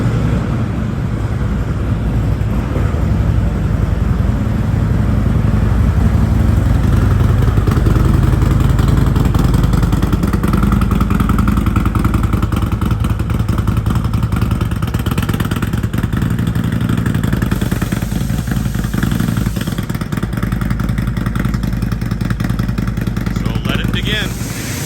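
A Harley-Davidson Road Glide V-twin with a stage 2 cam, running untuned on the stock map, rumbles loudly and continuously at close range while people talk over it.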